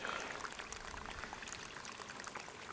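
Bore water pouring steadily into a small swale dug in Australian ground, a continuous splashing, gurgling rush heard alone at a moderate level.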